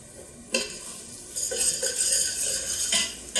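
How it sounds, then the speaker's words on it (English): A spoon scrapes and clinks against a pot as onions are stirred for marinara sauce, with several distinct scraping strokes over a soft background sizzle, close and clear. "Kind of keep it moving, stirring."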